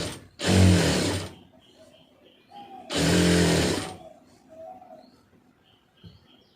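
Domestic sewing machine stitching a cigarette pant, two separate loud whirring bursts of about a second each, with quiet pauses and faint background sounds between them.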